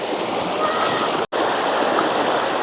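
Water pours steadily over a rock in a mountain creek with a close, constant rushing splash. The flow cuts out for a split second near the middle and then resumes.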